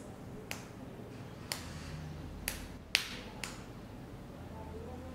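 Two fingers tap against an open palm in a nursery-class sound activity, giving five sharp, quiet pats spaced about a second apart in a hushed room.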